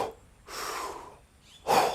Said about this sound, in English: very controlled breaths